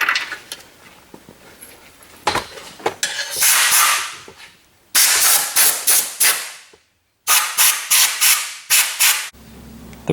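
An air nozzle blasts metal shards off a Dodge Viper crankshaft in loud, hissing bursts, several long blows and then a quick series of short puffs, with brief silent gaps between them.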